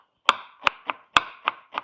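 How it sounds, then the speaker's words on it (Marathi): An onion is chopped finely with a knife on a board, six crisp, evenly spaced taps in quick succession, close and clear with no talking. "आपण आता कांदा बारीक कट करून घेऊ।"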